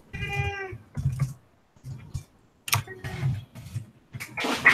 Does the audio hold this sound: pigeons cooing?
no